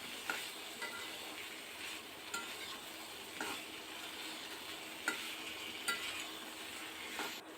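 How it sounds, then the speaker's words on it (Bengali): Spice paste with salt and turmeric cooking in a pan for a potato and cauliflower curry, stirred with a soft steady sizzle and occasional scraping clinks of the spoon, with no voices. "সব কিছু সুন্দরভাবে কষিয়ে আসা পর্যন্ত খুব ভালো করে নেড়ে চেড়ে মশলাটাকে রান্না"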